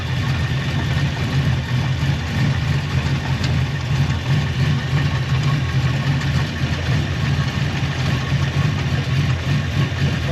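A Ford Mustang Fox Body idles with the air conditioning running after an R134 retrofit, a steady low engine hum and compressor drone that stays constant and fairly loud, with no talk.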